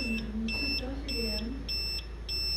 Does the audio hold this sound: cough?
no